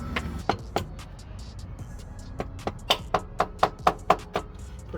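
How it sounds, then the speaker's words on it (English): A rubber hammer taps a CV axle into place on a 2005 Honda Accord: a few sharp knocks, a pause, then a quickening run of about ten close, distinct blows. "Use a rubber hammer so you don't mess up your splines."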